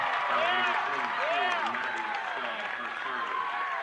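Crowd at a York Institute high school basketball game cheering and applauding loudly, a dense sustained roar with whistles and shouts, mixed with squeaking sneakers on the court.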